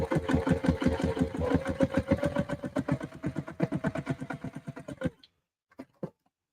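A sewing machine stitches a tote bag seam in a steady, fast run of close mechanical clicks for about five seconds, then stops, with a few faint handling taps afterward.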